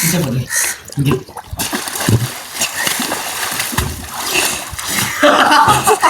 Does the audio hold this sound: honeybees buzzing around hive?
no